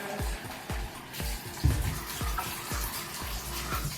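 Cold tap water gushes steadily into a bathtub being filled for a cat's bath, a close, continuous splashing rush with small drips and knocks and no voices.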